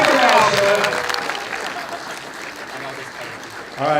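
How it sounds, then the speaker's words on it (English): An audience applauds at a live movie Q&A evening in Brisbane, loud clapping and cheering at first that gradually thins, before a voice starts speaking near the end. "And also a huge round of applause, Mr. Christian Fletcher, for putting us ther"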